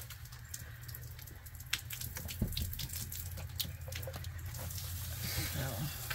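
Water running from a tap during an RV battery installation, a steady low rush with a few faint clinks, heard up close under light background noise.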